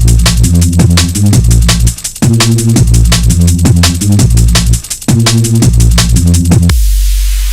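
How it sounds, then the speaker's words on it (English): Fast UK drum and bass track pounds loudly with rapid breakbeat drums and deep sub-bass, two short dropouts, then a cymbal wash and low rumble trailing off at the end. "This is the sound of drum and bass."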